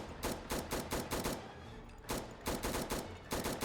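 An IWI Tavor X95 rifle in Fallout 4 fires two fast automatic bursts of sharp, evenly spaced shots with a short pause between them, loud and close with no speech.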